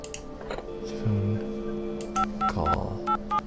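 Telephone dialing in The Dream Machine: a few soft button clicks, then a quick series of short, crisp keypad tones in an uneven rhythm over a low steady hum, fairly close and moderately quiet.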